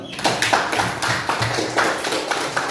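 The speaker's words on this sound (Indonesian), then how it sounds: "Kasih tepuk tangan dong." Classroom of pupils applauding a classmate during an Islamic studies lesson, a brisk run of uneven hand claps from a small group, close and fairly loud, with a few voices mixed in.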